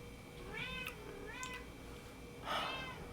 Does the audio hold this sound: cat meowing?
yes